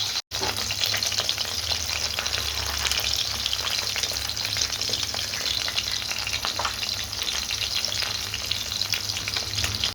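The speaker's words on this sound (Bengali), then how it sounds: "এখানে দেখতে পাচ্ছ মাছ ভাজা হচ্ছে" Loud, continuous sizzling of fish frying in hot oil, close up and unbroken after a brief gap at the very start.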